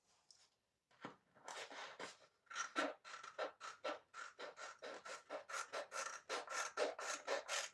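Scissors cut out scrapbooking material for a home décor piece, making a quick run of close, rhythmic snipping and rasping strokes, sparse at first and then steady and repeated.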